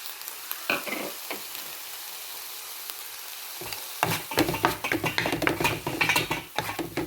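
Grated coconut is stirred and fried in a pan: a faint hiss at first, then from about four seconds loud scraping spatula strokes and crackling sizzle in an uneven rhythm, up close.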